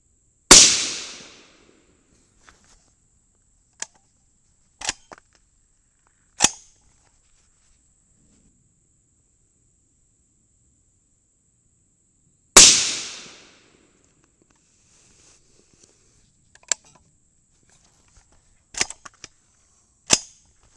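Two sharp, loud rifle shots from a .22 Nosler at an outdoor shooting range, roughly twelve seconds apart, each with a ringing decay, followed by scattered faint clicks and handling taps from the rifle in the quiet between.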